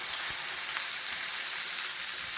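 Meat sears in a hot pan with a dense, even sizzle that stays loud and close, holding steady with no voices.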